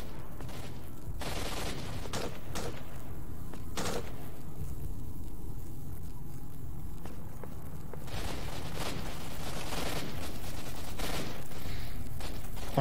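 Gunshots from a weapon in S.T.A.L.K.E.R. Shadow of Chernobyl ring out in irregular single cracks and short bursts over a constant bed of ambient game noise, loud and close, with no talking.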